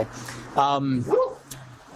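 Dogs barking nearby in short bursts, a couple of loud barks cutting across a steady low hum, with people talking under and around them.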